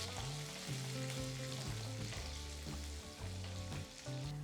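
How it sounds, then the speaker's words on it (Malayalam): Sliced onions sauté in a pan for a coconut-ground sardine curry, giving a steady close sizzle with occasional stirring scrapes. Music plays underneath throughout. "ഉള്ളി ഒന്ന് ലൈറ്റ് ബ്രൗൺ കളർ ആകുന്ന വരെ വഴറ്റിയെടുക്കാം."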